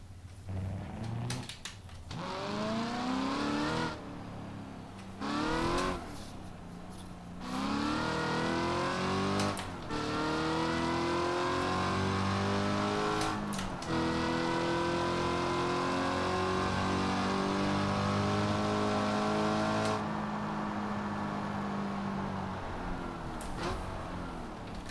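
A boosted Mustang engine in the BeamNG.Drive racing game revs hard through repeated rising gear pulls, with brief dips between shifts and then a long sustained high-speed climb, loud and with no talking.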